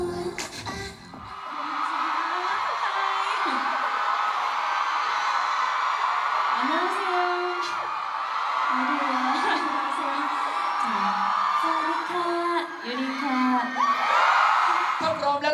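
Fans scream and cheer in a hall at a Bangkok fan meeting for Yuri of Girls' Generation, shrill sustained screams rising and falling under someone speaking over them.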